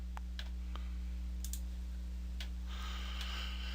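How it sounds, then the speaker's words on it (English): A computer mouse is clicked on a desktop to launch an SDK editor, giving a few faint, sharp clicks spread across the clip over a steady electrical hum. "We'll double click that."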